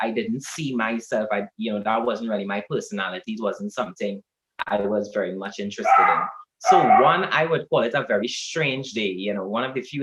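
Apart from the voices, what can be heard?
None of the usual background noises is heard.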